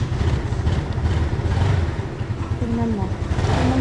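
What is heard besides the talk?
motorcycle engine starting and revving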